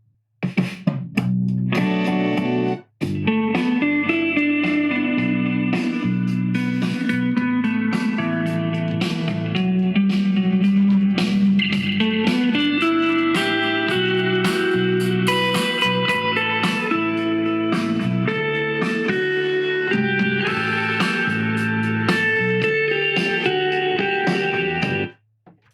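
Music with a driving beat and layered melody plays through cheap £20 USB-powered gaming speakers, loud and continuous for about 25 seconds with a brief dropout near the start, no talking.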